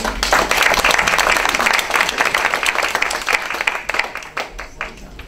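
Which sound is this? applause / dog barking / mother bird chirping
applause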